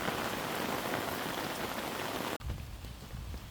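Heavy rain pours down steadily in a dense, hissing wash, with a brief break before it continues just as strongly.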